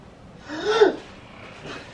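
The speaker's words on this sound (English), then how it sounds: "Don't sneeze on me, bro." A single human sneeze, a short breathy burst that peaks and fades quickly, close and fairly loud, followed by a faint breath.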